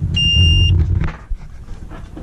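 A boat's AIS proximity alarm sounds a steady high electronic tone for about half a second over low engine rumble, then fades, leaving a droning background.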